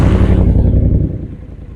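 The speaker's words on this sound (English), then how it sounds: "That's a cold start with no throttle." A 2017 Triumph Bonneville T120 cafe racer starts from cold in neutral with no throttle, a loud, dense low engine rumble that settles into a steady idle, close up and alone.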